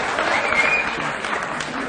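An audience at a motivational talk claps in a dense, steady burst of applause that carries on evenly for a couple of seconds.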